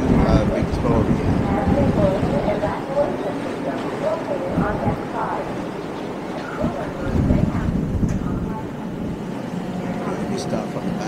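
Wind buffets the open deck of a BC ferry crossing from Vancouver to Victoria, a steady broadband rush with low gusting swells and the ship's rumble underneath, filling the whole stretch without a break.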